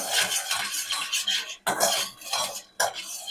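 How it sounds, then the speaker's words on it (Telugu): A metal spoon stirring and scraping food in a cooking pan, close and rhythmic, with repeated clinks and scrapes in several strokes separated by brief pauses. "కలబెడుతూ ఉండాలి లేకపోతే మాడిపోతుంది"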